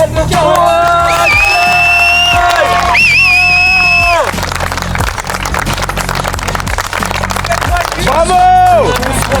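A large crowd at a drift competition podium ceremony cheers and applauds loudly throughout, with music and tonal sounds rising over the steady roar of the audience.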